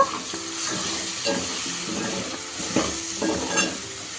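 Vegetables with chilli powder and biryani masala cooking in a pan on a low flame for veg biryani, with a soft continuous sizzle and repeated stirring scrapes close by, no voices.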